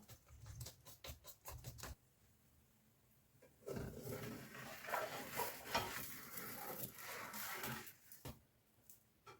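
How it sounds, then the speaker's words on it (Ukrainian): Quick, rhythmic whisking of water-based thin pancake batter in a bowl until smooth, with brisk scraping strokes close up, then a pause and a longer stretch of stirring. "Зараз все добре до однорідності перебиваю, змішую"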